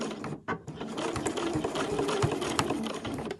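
Sewing machine back stitching through thick layered tufted towelling fabric for a head band, a close, steady rapid mechanical whirr with a brief pause near the start, running continuously without voices.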